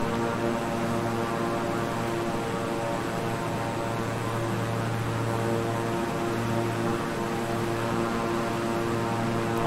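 A King Air 350i twin-engine turboprop cruising in Microsoft Flight Simulator hums continuously, its deep propeller drone and layered engine tones steady and unbroken, close and fairly loud with no voices.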